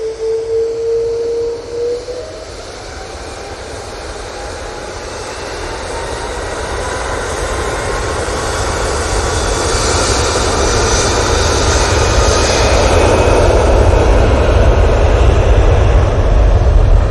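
A jet airliner takes off at Manchester Airport. Its engines roar steadily and build in loudness as it accelerates, a broad close rumble with rising whine that fills the whole stretch without talk.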